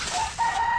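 A chicken gives a brief, close cluck that lasts under a second.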